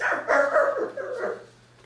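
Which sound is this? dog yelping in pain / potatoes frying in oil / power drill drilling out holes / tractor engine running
dog yelping in pain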